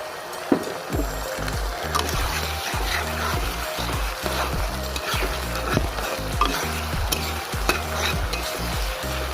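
Onions frying in oil in a pot as ginger-garlic paste goes in for a goat mutton curry, close sizzling with rhythmic stirring scrapes and occasional clanks of the spoon against the pan.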